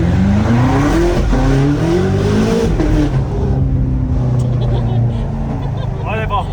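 A 2025 BMW M5 G90 accelerates hard on tight roads, its engine and exhaust climbing through loud rising revs with a gear change, then settling into a rough drone with faint tire squeal, while people talk over it.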